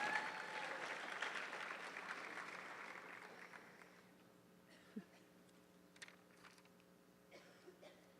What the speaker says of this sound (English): A big congratulations and round of applause for our Cypress Creek Super Scholars